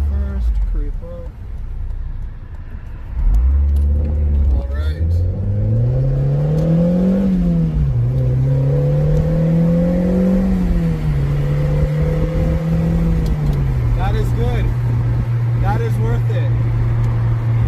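A manual Mazda MX-5 pulls onto a main road and accelerates hard, its engine note climbing through the gears in loud, steady sweeps with brief dips at shifts, close up inside the cabin.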